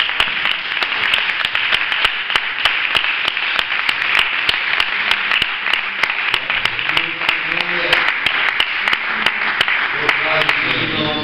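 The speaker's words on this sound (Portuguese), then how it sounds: "As palmas para o Senhor" A church congregation at an Assembly of God service in Porto de Mós, Portugal claps steadily throughout, a dense continuous applause with sharp individual hand claps, while a voice talks and sings along underneath.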